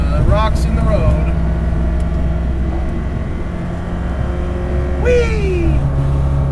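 A resto-mod BMW 2002 engine drones steadily from inside the car while driving, a low sustained hum with brief rising whines, under occasional talk.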